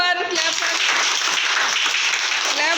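A classroom of children claps for a classmate, a dense burst of close, steady applause filling the whole moment after a short vocal onset.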